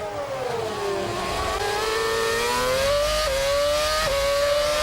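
Formula One cars at the 2008 Spanish Grand Prix, one engine's high whine rising steadily as it accelerates, loud and close, with the sustained roar of other racing machinery behind it.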